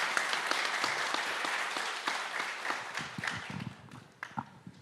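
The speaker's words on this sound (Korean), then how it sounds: "큰 박수 부탁드립니다." An audience at a mechanical technology forum panel discussion applauds, a dense clatter of clapping that thins out toward the end into a few scattered claps.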